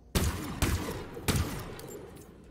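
Stalker rifle firing in Halo Infinite: three sharp, loud shots at irregular intervals, each trailing into a short decaying echo.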